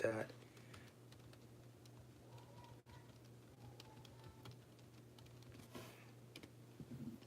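Light tapping of keys on a computer keyboard as a web address is typed, a quiet irregular run of clicks with a steady low hum underneath.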